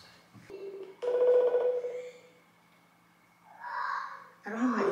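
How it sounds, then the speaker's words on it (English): An Instagram call rings through on a phone, with electronic ringtone tones arriving in two or three bursts separated by brief quiet gaps. The ringing sounds close and clear, with a faint voice in the background. "he keeps calling me on Instagram"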